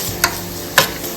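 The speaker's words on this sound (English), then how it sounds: "give a quick stir. The garlic is getting golden now." Golden garlic with curry leaves sizzles steadily in a pan, broken by two quick scraping stirs about half a second apart, close and moderately loud.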